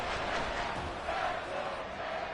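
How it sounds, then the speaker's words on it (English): Dense, roaring football stadium crowd noise from the Madden 24 video game, a continuous wash of cheering and shouting with no clear breaks. "this crowd doing their best to make a lot of racket"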